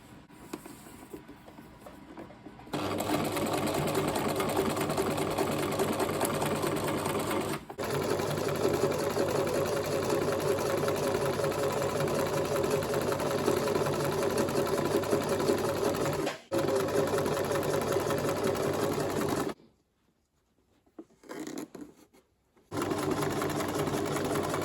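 Fabric runs under the needle of a sewing machine, which stitches a straight hem with a steady, close mechanical whir. It runs for long stretches and breaks off twice, with a brief silence and a short stop-start burst near the end.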